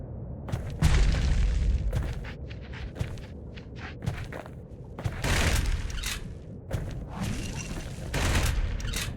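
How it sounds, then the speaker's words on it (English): A flashbang goes off in a video game amid bursts of gunfire and quick footsteps, with sharp booms and cracks punctuating the action. "It's a flashbang, yeah."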